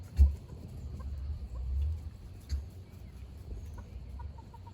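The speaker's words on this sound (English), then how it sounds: "I hear hens running around everywhere." Backyard hens clucking nearby with soft, scattered calls over low rumbling background noise, one sharper cluck near the start.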